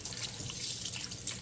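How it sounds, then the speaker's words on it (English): Warm tap water pours steadily over oxtail pieces in a kitchen sink, a continuous close splashing rush with no talk. "So I'm gonna put some warm water on top of my oxtail"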